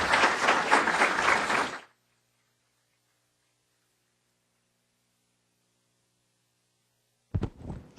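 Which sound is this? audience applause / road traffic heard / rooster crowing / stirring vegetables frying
audience applause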